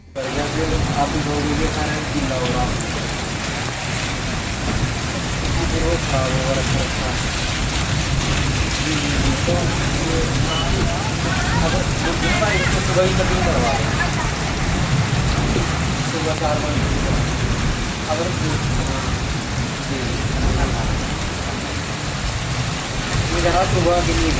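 Heavy rain pours on the Delhi-Dehradun Expressway, a dense, constant hiss of water that holds steady for the whole stretch, with vehicle rumble underneath and a voice talking over it.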